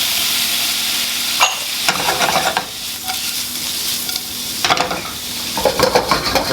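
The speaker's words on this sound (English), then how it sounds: "to also add garlic to my shrimp while I saute it and fry it" Shrimp sizzles with minced garlic and ginger in a hot pan for Shanghai stir-fry noodles, a steady loud frying hiss with repeated scraping stirs of the utensil against the pan.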